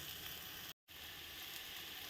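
Spices and moong sautéing in a pan make a dense, continuous sizzle, broken by one brief gap of silence.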